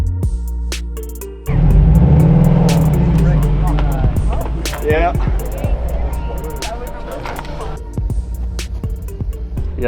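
Subaru STI S209 engine heard from inside during a ride-along at a Subaru meet, a loud steady drone that swells after a quiet start, with tire and road noise and people talking over it.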